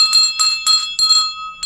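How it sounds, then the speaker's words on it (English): A solid brass teacher's handbell rings loudly in four or five quick shakes, each burst a bright clanging ring with a sustained metallic tone between strokes. "Dinner time. Teacher's bell,"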